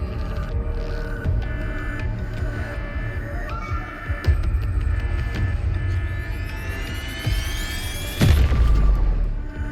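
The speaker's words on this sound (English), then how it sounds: "Meng Zhou's last defenders detonated the entire Yuan Fortress" A massive fortress detonation in a Wuthering Waves cutscene, with deep booming rumble and throbbing hum building under a swelling score, then a large blast surge near the end.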